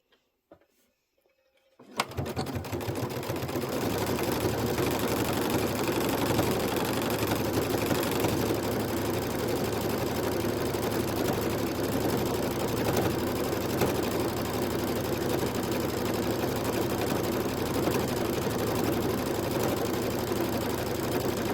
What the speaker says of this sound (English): I'm just going to hit the stitch again, and that'll go back to the beginning